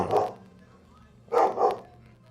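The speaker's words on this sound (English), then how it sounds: "Now they're both barking." Two dogs bark in short bursts, one bark and then a quick pair of barks a moment later, fairly close and loud against a quiet room.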